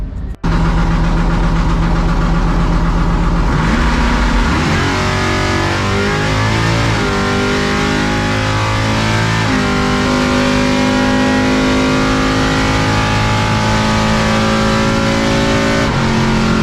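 A C10 drag truck in a pro truck class revs hard on a drag strip test pass, its loud, close engine roaring and changing pitch steadily throughout with no talk over it.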